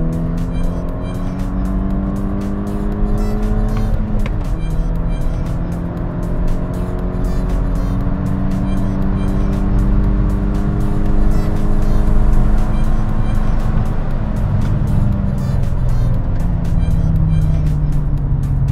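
An MK6 GTI with a cold air intake accelerates at full throttle, its engine droning loud and close as the pitch climbs through repeated gear changes under heavy road and wind noise.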